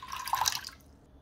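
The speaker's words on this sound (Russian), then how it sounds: "В кастрюльку, желательно с толстым дном, я наливаю воду." A short splash of water pouring into a thick-bottomed saucepan, bright and close, trailing off after about a second.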